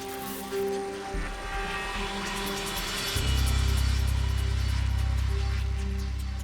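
A Vietnam-era Huey combat assault helicopter flies close and loud, its rotor beating in a steady heavy thrum that swells and stays strong throughout.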